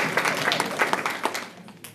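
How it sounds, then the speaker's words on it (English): Scattered applause from a small school staff audience during a data presentation: a brief flurry of individual claps, fairly close, that quickly thins out and fades. "Let's give 9th grade math teams a round of applause."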